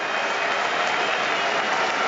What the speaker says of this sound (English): But listen to the crowd rise for Liam Livingstone.